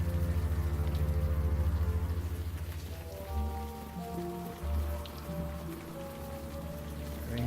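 Rain falling on the ground and on a car in a Chinatown scene of a video game, a faint steady patter and hiss beneath low sustained tones and a pulsing hum that fades midway.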